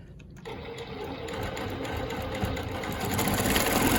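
A longarm quilting machine stitching a Baptist fans pattern along a ruler, a rapid mechanical needle chatter that starts after a brief pause and grows slightly louder, close and steady.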